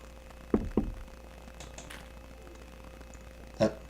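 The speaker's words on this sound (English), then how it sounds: "Knock on the door." Knocking on a door in the video game Ambition: A Minuet in Power: two quick knocks close together, a pause, then a single sharp knock, over a quiet background.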